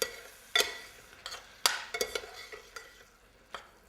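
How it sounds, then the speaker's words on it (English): Onions being stirred with a teaspoon of salt in a pan, with a few sharp scrapes and clinks of the utensil against the pan over a faint sizzle, close and fairly quiet, no talking. "And I'm going to add that and stir up the onions."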